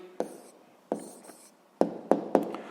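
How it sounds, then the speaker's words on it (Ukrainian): A pen taps and scratches on paper while a maths answer is written down, giving several sharp strokes with short scribbles between them, close and fairly loud, with no speech. "Записуємо тоді відповідь"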